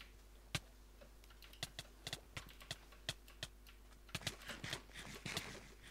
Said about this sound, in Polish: klikam tą myszkę, szybko